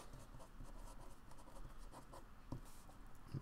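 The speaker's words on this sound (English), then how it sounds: "just to make it extra clear, I'm going to write that" Pen or marker writing by hand on a surface during a lesson, a faint steady scratching with a few small taps, close but quiet, with no talking.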